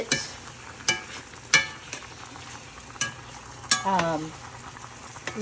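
Chicken browning in a pan for jambalaya, a soft sizzle broken by repeated sharp clinks of a utensil stirring against the pan at irregular intervals.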